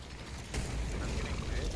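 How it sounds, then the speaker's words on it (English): Explosions in the Apex Legends video game, a muffled blast rising out of dense rumbling game noise and staying loud and continuous for the rest of the moment. "I'm getting hit by explosion."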